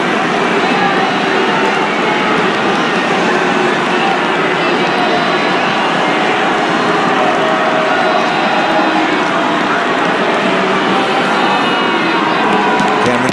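Rugby stadium crowd at a Super 14 match between the Crusaders and the Western Force roars and cheers without a break, a dense and loud wash of voices with whoops, plus a commentator talking over it.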